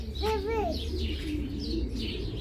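Caged birds in a pet shop during breeding season, a near dove-like cooing call followed by softer chirps and tweets over a constant low room hum.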